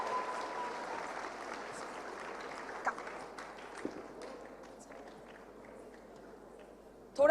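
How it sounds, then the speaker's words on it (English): Sustained audience applause at a talk on menstruation stigma, steady and dense throughout, fading slightly toward the end before a brief louder burst, with faint voices mixed in. "let's keep the applause going"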